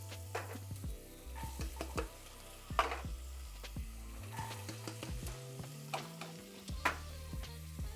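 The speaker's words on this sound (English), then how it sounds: "You wanna hear that nice sizzle? That means it's sauteing." Diced onion, celery and carrot sizzle steadily in a pan for Italian cooking, a continuous close frying hiss with scattered clicks and light scrapes of stirring, with no talking.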